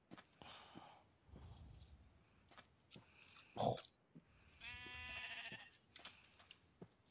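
Sheep in the Minecraft modpack FTB Infinity bleat in short, wavering calls, one after another, mixed with other sparse game sounds and quiet clicks at a low overall level.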